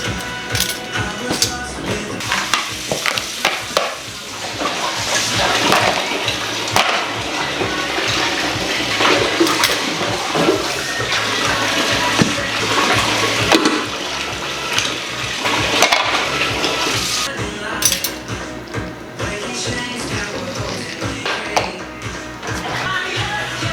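Water from a bucket pours and splashes into a home dishwasher, a loud, continuous rushing gush with sloshing bursts that runs for over twenty seconds without talk.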